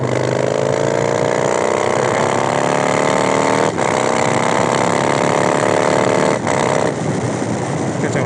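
Harley-Davidson motorcycle engine roaring continuously at high revs during clutchless shifting, with two brief dips in pitch marking quick upshifts before the loud rasp climbs again, close and alone with no talk.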